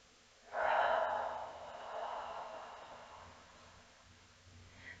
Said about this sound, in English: big full exhales